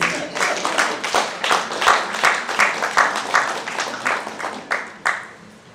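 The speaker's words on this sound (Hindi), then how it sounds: "बात अगर अच्छी लगी तो ताली वाली बजा दें।" An audience at a community presentation on suicide by an educational welfare society claps in sharp, distinct claps. The claps come in an uneven but steady stream for several seconds before thinning out.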